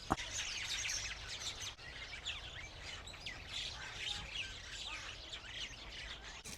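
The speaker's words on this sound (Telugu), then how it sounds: "దీని లోపల రాబందువులు అండి" Faint calls and squawks of vultures in an enclosure chirp intermittently against a quiet outdoor background, in Karakul, Kyrgyzstan.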